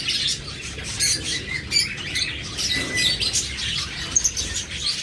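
Pet lovebirds and budgerigars kept for sale chirp and squawk together in a busy, overlapping chorus of sharp high calls, steady and fairly close, with no talking.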